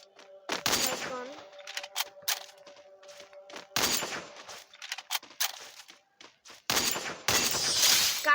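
Shotgun fire in a video game shooter, with several loud, sharp bursts in separate clusters separated by quieter gaps, plus brief scattered clicks and impacts.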